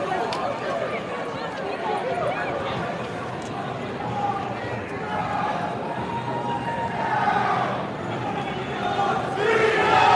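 A large outdoor rally crowd makes a dense, continuous roar of chatter, shouts and cheering, with many voices overlapping throughout.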